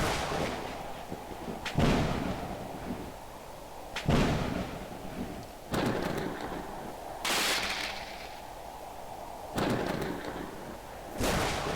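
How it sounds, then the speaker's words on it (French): Thunder claps during a thunderstorm in a natural disaster survival video game with no rain falling: about six loud, sharp booming cracks that come at irregular intervals of roughly two seconds, each fading into a low rumble, with no talking. "Il y a un orage, mais il pleut pas à l'extérieur."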